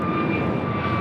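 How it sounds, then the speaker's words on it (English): An American Airlines Airbus A321neo jet airliner taking off at LAX, a steady loud engine roar with a faint whining tone, continuous and close, no voices. "This takeoff is American Airlines 1537 headed out to Miami, Florida on an A321neo."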